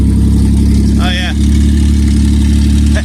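A car engine idling loudly with its exhaust system removed, a steady deep rumble throughout at close range, with a brief voice cutting in over it.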